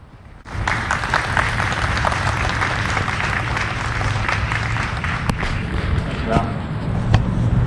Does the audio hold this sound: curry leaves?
no